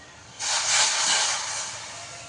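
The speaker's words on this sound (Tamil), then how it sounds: "இப்போது தண்ணி கொதிக்குது" Water boiling in a pot gives off a sudden, steady hiss of steam that swells and then slowly eases off.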